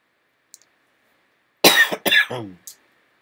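A short burst of harsh coughs, two or three in quick succession, close and loud, following near silence.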